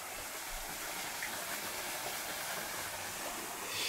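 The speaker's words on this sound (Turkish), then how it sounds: "Burada da şelale var." A waterfall beside a 500-year-old water mill gives a constant broadband rush of falling water, steady and fairly close, with no voices.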